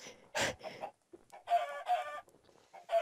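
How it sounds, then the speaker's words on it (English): Minecraft chicken clucking in the video game, several short close clucks and squawks in an uneven rhythm, no talking over them. "Chicken!"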